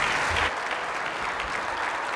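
An audience applauds as Tina Quigley, LVGEA President and CEO, is welcomed to the stage at the 2022 State of Economic Development event, with dense, steady clapping that fills the whole stretch with no talk over it.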